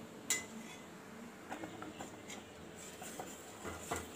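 A spoon scraping and clinking against a metal pot while a thick boiling milk mixture for seembaal (colostrum milk pudding) is stirred, with faint bubbling under a few sharp near clinks.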